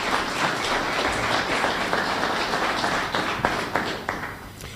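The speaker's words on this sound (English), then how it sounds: "would you give him a round of applause" Audience members at a 2018 debate applaud a congressional candidate with steady, moderately loud clapping that continues throughout the short clip and thins slightly toward the end.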